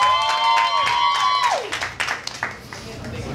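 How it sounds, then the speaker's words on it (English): Scattered clapping and light applause for the singer Amara at a spring showcase, heard as a few distinct hand claps after a held sung or whistled tone fades out. "So a big round of applause for Amara,"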